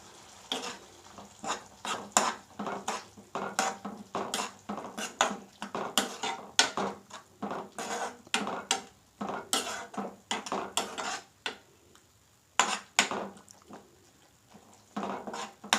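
A spoon scrapes and clatters rhythmically around a pan while mixing tomato paste with salt, turmeric and chili powder for a garlic curry, giving repeated close metallic stirring knocks with brief pauses between.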